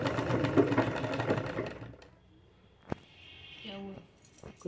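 A home sewing machine meant for stitching chenille quilt covers runs loudly for about two seconds with a dense mechanical whir, then stops, leaving a quieter room with a faint hum and brief vocal sounds.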